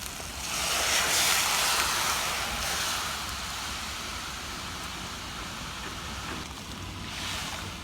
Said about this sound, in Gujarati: હવે આપણે પાણી ઉમેરીશું.